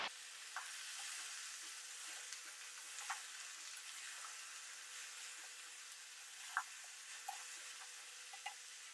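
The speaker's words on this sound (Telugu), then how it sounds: "సాంబార్ ముక్కలన్నీ ఏగిపోయినాయి నూనెలో" Sambar vegetable pieces frying in oil, a soft continuous sizzle with occasional faint pops and ticks, quiet and steady, without any talking.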